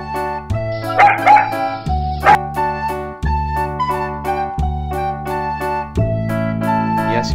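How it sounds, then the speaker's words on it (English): A dog gives a few sharp yipping barks in quick succession, close and clear, over an upbeat children's music track. "Dog."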